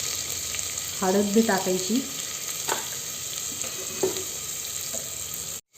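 Garlic and cumin sizzling in hot oil in a pan for a village-style chicken curry, a steady close frying hiss with occasional stirring clinks while someone speaks briefly.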